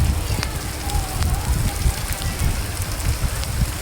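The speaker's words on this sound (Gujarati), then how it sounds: "પેલો વેલો વરસાદ આવી ગયો" Rain falls in Khambha village in Gir with a dense, even patter and crackle of drops on surfaces, steady and close throughout.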